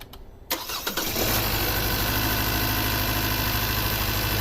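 A 2016 Kia Soul with a 2.0L engine and a no-power fault cranks with a few quick starter whirs, then fires up and settles into a loud, steady idle close by.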